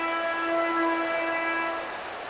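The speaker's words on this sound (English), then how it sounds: "The final horn sounds." A steady, tonal final horn in an NHL hockey video game blares for about two seconds at moderate volume, sustained and unbroken, fading slightly at the end.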